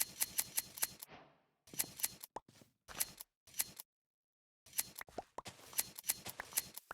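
Crisp snipping of shears on sheep in a video game, several short clustered cuts separated by brief silences, clear and close with no talking.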